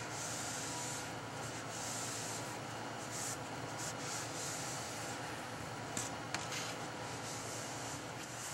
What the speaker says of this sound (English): I've got a clean, dry rag, and what I'm going to do now is just rub the excess stain